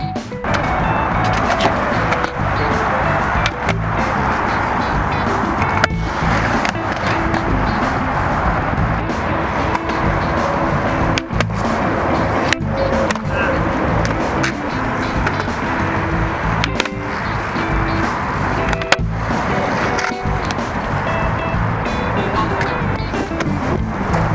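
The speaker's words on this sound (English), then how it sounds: "I'll do a couple manuals in this next clip just to show you the manual" Skateboard wheels roll continuously over pavement during manual tricks, a steady close grinding rumble broken by sharp clacks and knocks as the board tips and lands.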